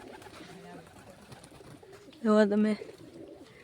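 Pigeons perched on a village rooftop pigeon setup, with one loud, close coo bursting out midway through a quieter background of soft bird sounds while someone talks.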